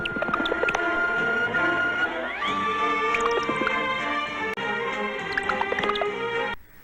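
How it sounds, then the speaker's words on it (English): Sci-fi guns firing in an animated film: warbling, synthesized tones that sound like liquid. Bright pitched chirps and slides overlap in a dense, continuous stream that stops abruptly near the end. "It sounds like synthesized water."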